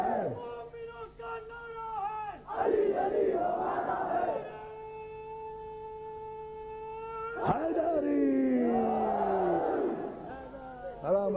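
A majlis crowd chants religious slogans in loud unison. The roaring voiced waves swell twice, echoing in a large hall, with a steady droning hum sustained between the bursts.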